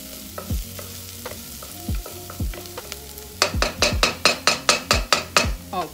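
A spoon scrapes and stirs Caribbean rice and beans frying in a pan. A few slow, soft strokes come first, then a run of quicker, louder, evenly spaced scrapes over a faint sizzle.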